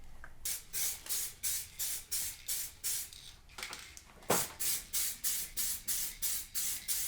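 A spray can of Plasti Dip rubber coating is sprayed in a rapid series of short hissing bursts, about a dozen evenly paced passes with a brief pause midway, close and clear without speech.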